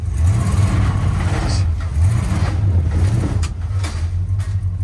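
An old Dodge Monaco engine idles roughly and revs in uneven surges, stumbling and breaking up under slight load on a wet day, loud and close with a low throbbing rumble.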